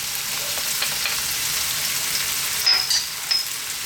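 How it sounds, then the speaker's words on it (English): Onions and garlic frying in a little oil over medium heat, a steady close hiss of sizzling with a few brief metallic clinks near the end; no one speaks. "now we're going to add our onions to this little bit of oil"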